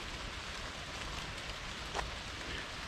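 Steady, soft hiss of rain falling outside a church in Rotherham, a constant broadband patter heard from indoors at low level, with one faint brief knock partway through.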